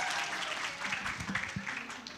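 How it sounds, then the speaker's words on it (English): An audience at a joint biology education seminar claps briefly, a soft textured patter mixed with a voice and room murmur, tapering off within a couple of seconds. "big applause for everyone for Taman Curug Den"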